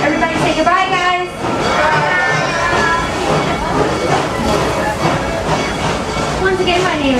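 Narrow-gauge Serengeti Express train at Busch Gardens Tampa running along its track, a steady rolling rumble and rattle of railcars under a loud, continuous onboard announcement over a crackly speaker with passengers around.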